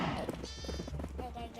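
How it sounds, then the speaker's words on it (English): Several short sheep bleats in quick succession from a Nintendo Switch 2 farming game, slightly synthetic-sounding, with a voice talking over them. "my farm is gonna be packed full of sheep"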